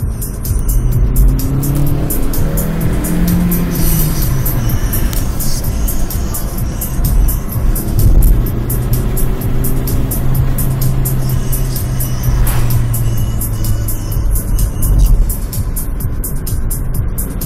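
A Dodge Challenger SRT and a Mini JCW roar past close by, loud engines revving and shifting with rising and falling pitch as they accelerate, tire noise and a steady drone throughout with no talk over it.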